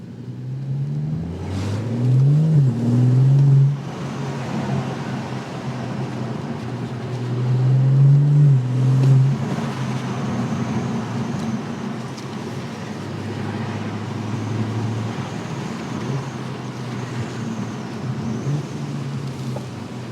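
BMW M140i hatchback with B58 engine and Osprey V3 intake, held in 3rd gear under heavy load, accelerating with two rising engine surges and a steady loud drone between them, heard from inside the cabin.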